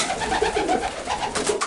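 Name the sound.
pigeons cooing in a loft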